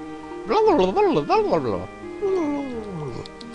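A cat meows in the Professor Layton video game, two drawn-out wavering calls, the first rising and falling several times, the second a softer descending tail, close and clear with no talk over them.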